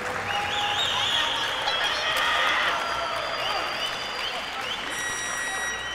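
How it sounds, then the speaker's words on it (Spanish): Steady applause from a crowd at a Pan-American senior weightlifting championship in Caracas, greeting a lifter from Nicaragua, with a continuous dense clatter of clapping and a few cheers throughout. "Aplaude el público presente al de Nicaragua."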